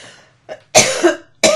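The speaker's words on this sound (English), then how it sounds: "as I take care of my cough" A few harsh, close coughs in quick succession, loud and raspy, with a brief pause between them.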